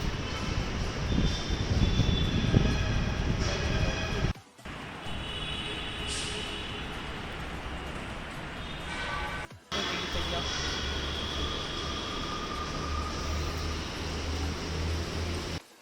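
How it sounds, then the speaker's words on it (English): A metro train arrives at a station platform with a loud, steady roar of motor and wheel noise that drops out briefly twice before surging back. "तो finally metro आ गया"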